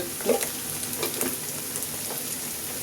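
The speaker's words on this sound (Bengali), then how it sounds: "পেঁয়াজটা একটু ভেজে নেই।" Onion fries with ginger-garlic paste in a pan, giving a dense, close sizzle with a few quick stirring scrapes over its short span.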